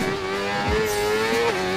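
Motorcycle engine in the Ride 4 racing game, a steady high-revving whine with a quick gear-change dip near the end, continuous and alone in a very brief burst.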